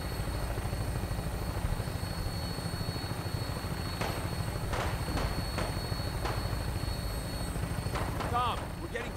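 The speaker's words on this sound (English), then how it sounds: "Tinker's gonna keep the vertibird spooled for an immediate takeoff" Vertibird rotors held spooled up for takeoff in Fallout 4, a steady loud whirring drone with beating rotor texture under scattered game sounds.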